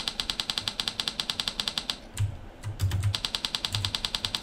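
Rapid, even clicks of a video game NPC dialogue text-typing sound effect tick away in a steady rhythm, pause briefly with a few soft thumps, then resume; no voices.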